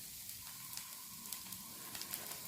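A rava dosa made from semolina batter sizzles on a hot pan with a soft, steady frying hiss and faint crackling pops, quiet and uninterrupted.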